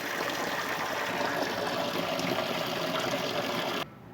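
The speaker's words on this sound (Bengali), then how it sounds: "তার জন্য আমি ডিমটাকে একটু ধুয়ে নিচ্ছি" Water runs steadily from a tap while eggs are rinsed under it, a constant close splashing stream that cuts off abruptly near the end.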